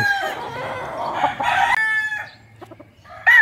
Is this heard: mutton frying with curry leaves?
no